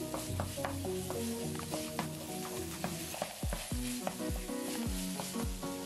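Beef rendang spice paste fries in a pan and is stirred, a loud continuous sizzle and crackle with scraping utensil strokes and metallic knocks throughout, no speech.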